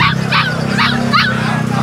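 Rottweiler Labrador mix dog, one of a pair offered for sale, giving four quick yips and barks in a row over a steady low background hum, close and fairly loud.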